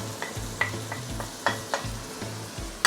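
Chopped tomatoes for a prawn curry sizzle and hiss in a hot pan, broken by a series of stirring scrapes and soft clicks of the spoon against the metal, close up with no talking.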